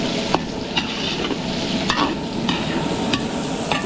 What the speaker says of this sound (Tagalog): papupulayin lang natin ng konti yung sibuyas.